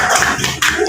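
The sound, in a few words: classroom children clapping hands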